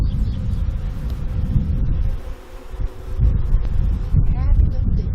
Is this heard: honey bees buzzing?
yes